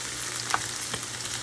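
Okra (bhindi) frying in a pan gives a quiet, steady sizzle with a couple of soft stirring clicks, close and continuous.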